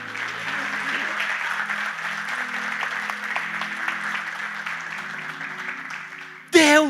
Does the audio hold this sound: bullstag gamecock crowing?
no